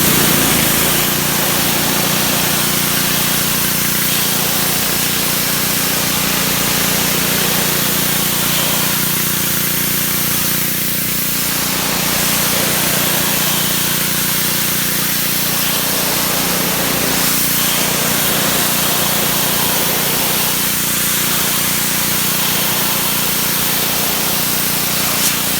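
A Simoniz Platinum 3000 PSI pressure washer fitted with a 25-degree nozzle sprays in a loud, continuous hiss over a steady engine drone, with slight swells as the spray shifts across the surface.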